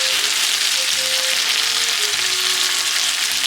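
Steady, close sizzling of okonomiyaki sauce frying on a hot griddle, a dense crackling hiss without pause.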